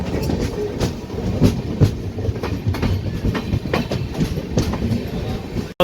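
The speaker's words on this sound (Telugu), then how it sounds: "మన ట్రైన్ ఆన్ టైం అయితే నడుస్తుందండి ఇప్పుడు" Pinakini Express with LHB coaches running on time toward Chennai Central, heard from inside as a loud, continuous rumble with a regular clickety-clack of wheels over rail joints.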